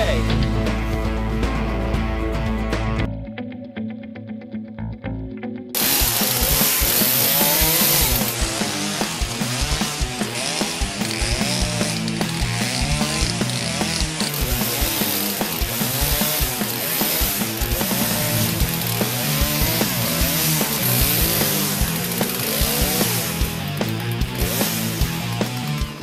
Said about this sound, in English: First up, the chainsaw.